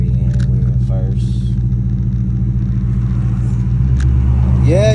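A Dodge Charger with a cammed 5.7 engine rumbles in first gear with a deep, loping idle that stays steady and close, while people talk over it.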